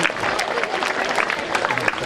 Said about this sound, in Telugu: బలాంతంగా చప్పడి కొట్టించినట్టుంది